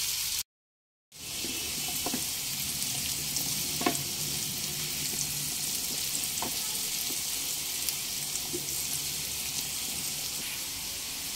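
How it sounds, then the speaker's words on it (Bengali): Potatoes with turmeric fry in a covered pan for Bengali aloo posto, making a continuous, even sizzle with faint occasional ticks after a brief silent gap at the start. "প্রায় 3 থেকে 4 মিনিট খুব ভালোভাবে ভেজে নিয়েছি, একটু হালকা লালচে কালার চলে এসেছে।"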